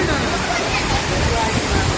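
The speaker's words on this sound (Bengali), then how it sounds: "ঝর্ণা চলে এসেছি ঝর্নার সামনে" Madhabkunda waterfall in Moulvibazar roars as a steady, loud, close rush of falling water, with voices faintly mixed into the constant wash.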